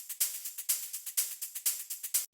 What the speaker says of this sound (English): And we've got our hi-hats.